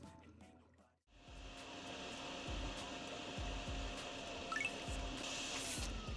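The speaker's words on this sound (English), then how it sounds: "I actually ended up just grabbing the vacuum and vacuuming the front lot and the back lot" Vacuum cleaner running in a convenience store parking lot in the DrainSim video game, a steady whirring drone that starts abruptly after a brief quieter moment and continues throughout, with faint dripping and clicks.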